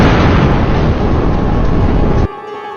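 Atomic bomb blast over Hiroshima: a massive, sustained roaring boom that rumbles loud and broad for over two seconds, then cuts off abruptly into a faint hum.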